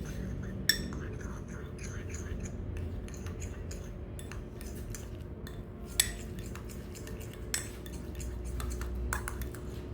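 A spoon mixing oats and egg yolk for a facemask in a bowl, giving light clinks and scrapes against the bowl at irregular intervals, with a few sharper taps over a low background hum.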